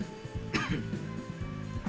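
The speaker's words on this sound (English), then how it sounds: "tried to cough that up for a bit." A single person coughs and clears their throat, with a short burst partway through and a fainter one at the end, over a steady background of game music.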